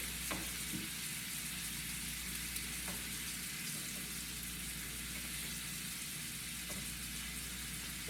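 Steak sizzling in butter in a pan over medium-high heat gives a steady, close frying hiss with faint pops and a few light clicks throughout, and no talking.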